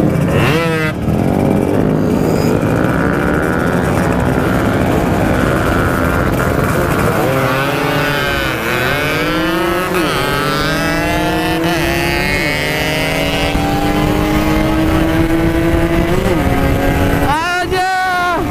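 An old RX motorcycle engine races loudly and close, revving hard with repeated rising and falling pitch sweeps as it accelerates through the gears.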